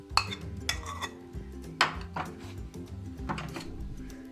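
A spoon clinks and scrapes against a bowl while potato kabab mixture with chopped coriander, green chilli, onion and spices is stirred, giving a few sharp metallic knocks among softer, uneven scraping.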